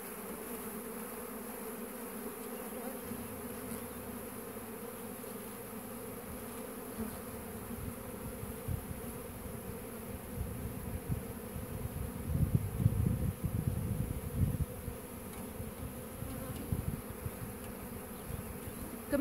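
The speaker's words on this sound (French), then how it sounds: "je sais pas comment on fait pour faire tomber toutes les abeilles." Honeybees buzz around an open hive in a steady, droning hum that swells louder near the middle as bees pass close, sounding alone without speech.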